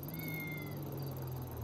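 A cat in a police video game gives a single drawn-out meow over a steady low background hum, with no voices.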